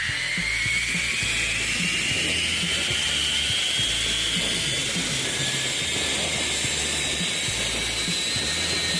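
A zipline trolley runs along a steel cable through the Laos jungle, giving a continuous close whirring hiss with a slowly rising whine and a rhythmic low rattle throughout.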